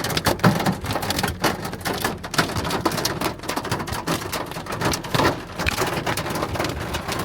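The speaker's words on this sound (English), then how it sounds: "we just got in the car and it just started hailing." Hail and a thunderstorm pounding a car roof and windows, heard from inside the vehicle: dense, steady drumming of ice and rain with sharp individual impacts throughout, loud and close with no pauses.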